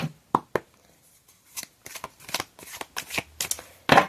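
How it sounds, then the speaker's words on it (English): Oracle deck cards being shuffled, with a string of crisp riffling and flicking bursts close by, some brief and some longer, with no talk. "I'm going to get one card each from my oracle decks"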